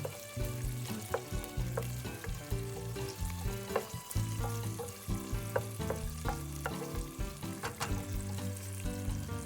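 Ingredients for a shrimp noodle soup frying with oyster sauce while being stirred, a dense busy sizzle with frequent scraping clicks from the utensil. Close and continuous, though faint in level, with music-like tonal layers underneath and no talk.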